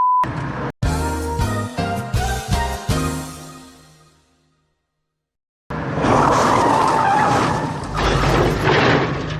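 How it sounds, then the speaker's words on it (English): A car in a film scene swerves and crashes into a ravine. Loud screeching and skidding with metallic clatter come first, then a short silence, then a sustained roaring rush of noise. "Causing him to swerve and crash into a ravine."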